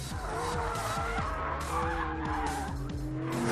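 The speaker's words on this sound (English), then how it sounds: "I know my setting on a McLaren's variable drift control" A McLaren 720S slides sideways with its engine roaring and tires squealing continuously, loud and close throughout.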